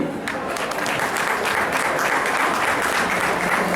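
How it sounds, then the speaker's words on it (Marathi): Sustained audience applause fills the hall at a Maharashtra Cultural Society cultural programme in Bahrain, a dense, steady clatter of many hands clapping at even loudness throughout, with no voices over it. "एकदा जोरदार टाळ्या तुमच्यासाठी"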